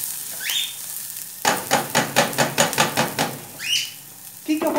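Onion and garlic frying in a pan, a loud close sizzle broken by a quick run of rhythmic stirring scrapes and clatters, with brief higher squeaks at the start and end.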